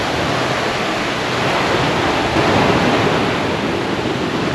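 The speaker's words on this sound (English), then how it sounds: "Look at the waterfall. There's your waterfall" Roaring surf and a waterfall at Playa Bonita beach in Costa Rica, a loud broad continuous wash of water with wind buffeting the microphone, steady throughout with no voices.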